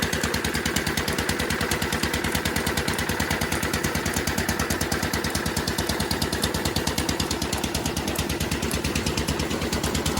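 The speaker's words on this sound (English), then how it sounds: "It's amazing what a new spark plug will do for an engine." A small engine running with a freshly replaced spark plug, firing in a fast, even, steady rhythm at close range with no pauses or speech.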